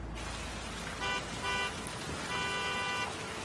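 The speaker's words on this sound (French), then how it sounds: "Tu entends le klaxon?" A car horn honks three times in short bursts, the last a bit longer, heard at moderate distance over steady background noise.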